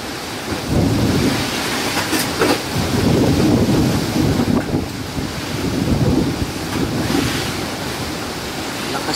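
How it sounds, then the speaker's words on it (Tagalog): Heavy typhoon rain under Signal No. 5 winds, pounding as a roof is torn apart, makes a dense, continuous roar of rain and gusting wind that swells and eases throughout, with no talking. "Lakas talaga ng ulan."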